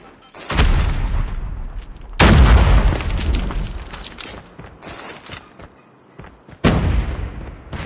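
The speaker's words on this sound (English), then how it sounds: "Grenade!" Grenade blasts in Call of Duty Mobile: a heavy booming explosion erupts, decays with rumbling debris, then another powerful boom hits later, each loud and close with deep low-end weight.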